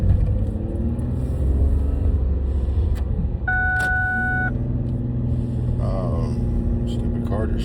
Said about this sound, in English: stupid car just shut off again